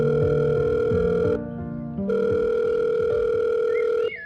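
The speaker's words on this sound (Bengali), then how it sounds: "ফোন করল অফিসে" A telephone handset gives a steady, loud electronic dial tone with a short break partway through, then a brief higher ringing chirp at the end, as a call is placed to an office.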